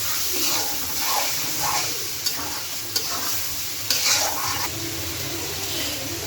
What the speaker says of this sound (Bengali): শিং মাছটা ভালো করে কষিয়ে নিই